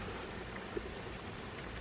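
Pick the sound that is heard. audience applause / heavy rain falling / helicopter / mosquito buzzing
heavy rain falling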